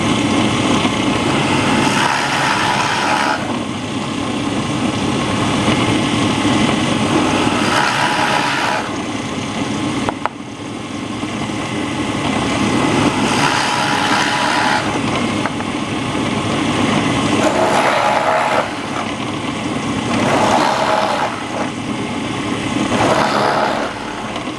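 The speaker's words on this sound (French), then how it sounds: "on commence à percer comme ça" Power drill boring a centred hole through material while building an 80 W diving lamp, a continuous high-pitched motor whine that rises and falls in several pushes, loud and close, with no talking.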